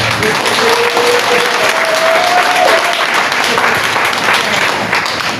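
An audience claps loudly and steadily throughout at an event, with a brief voice faintly heard above the applause.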